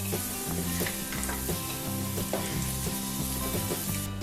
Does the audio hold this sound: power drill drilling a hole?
no